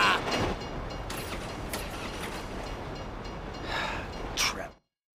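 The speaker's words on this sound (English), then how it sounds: "If you were local, you'd know the train comes by right now!" A train rumbles past in Grand Theft Auto 5, its rattling, clanking wagons and wheels rolling steadily and fairly close before the sound cuts off abruptly at the end.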